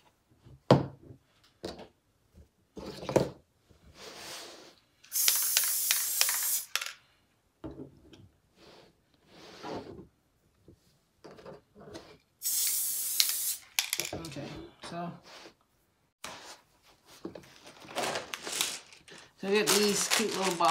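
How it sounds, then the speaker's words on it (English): Several bursts of aerosol clear glaze spray hissing, each lasting a second or two, separated by handling noises and soft clatter. "I'm just spraying a little light coat."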